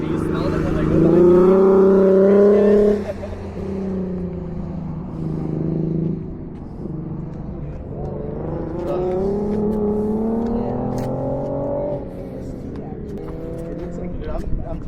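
Open-wheel race cars at an SCCA event roar past one after another, engines swelling and fading as they go by, with people chatting nearby over the noise.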